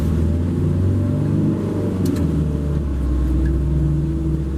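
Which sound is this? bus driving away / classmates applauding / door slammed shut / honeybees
bus driving away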